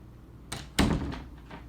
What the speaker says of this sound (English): Alright, I'm gonna shut the door.